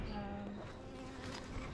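Honey bees buzz steadily around hive wax during a hive inspection, a close, continuous insect drone with no pauses.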